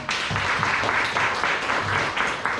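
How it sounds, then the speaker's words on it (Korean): An audience at a business seminar in a Busan hotel applauds a product announcement, giving a steady, dense wash of clapping that holds at an even level for a few seconds with no voices on top. "박수 한번 주십시오."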